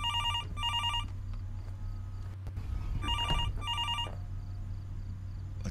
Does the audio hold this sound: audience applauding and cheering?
no